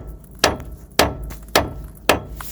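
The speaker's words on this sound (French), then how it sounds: "ou des fois un petit coup de marteau." Hammer strikes on a Peugeot 208 front suspension wishbone ball joint, four sharp metallic taps evenly spaced about half a second apart, close and distinct with no talk.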